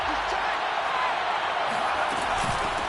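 Stadium crowd noise from the Madden 22 football video game, a steady loud roar of a home crowd filling the whole stretch with no break.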